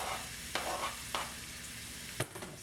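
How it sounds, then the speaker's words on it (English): Onions and garlic sautéing in a hot pan give a steady broadband sizzle, broken by a few sharp scrapes and clinks of stirring; close and moderately quiet, with no voices. "Saute these onions and garlic a little bit"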